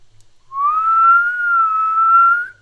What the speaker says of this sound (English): I can whistle tonight,